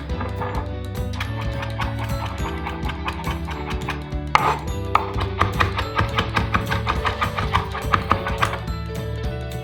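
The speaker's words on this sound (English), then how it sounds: "I just kind of put them in a big pile and I'm just gonna chop them" A knife chops a pile of basil leaves on a cutting board, a rapid run of close, even taps that quickens into dense rhythmic strikes, with a steady background hum and no talk.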